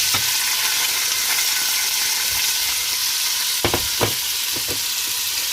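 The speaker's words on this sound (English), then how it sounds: "You want to hear that sizzle" Onions and peppers sizzle in hot oil on a stove for a chicken curry, a loud steady frying hiss with a few sharper crackles and stirring scrapes near the end.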